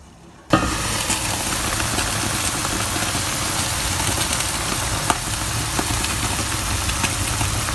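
Chicken feet adobo with vinegar, soy sauce and peppercorns simmering in a covered pot, a steady loud bubbling hiss that starts abruptly and holds constant, with a faint clink partway through.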